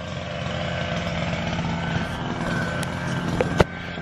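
Petrol weed eater engine warming up outdoors by a driveway, a steady droning idle held close throughout with a brief louder blip near the end.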